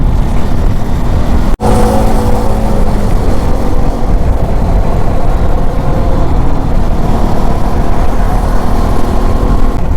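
Steady loud roadside engine roar from three motorbikes passing on a road near a waterfall, a continuous rumble with one sharp click early on.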